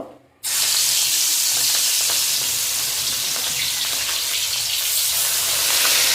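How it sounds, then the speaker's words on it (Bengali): Fish heads frying in hot oil in a wok, a loud, steady sizzle with crackling bursts that starts abruptly and holds without a break. "মাছের মাথাগুলো ভেজে নেব"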